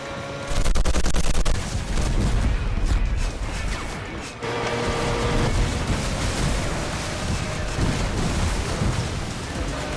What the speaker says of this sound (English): The super fast missile just kind of bang.